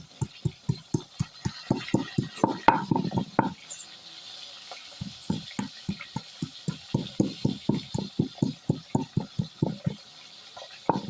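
Ginger, garlic and cumin being ground into a paste on a stone, a steady run of close, rhythmic knocking and grinding strokes, briefly pausing mid-way before resuming at the same pace.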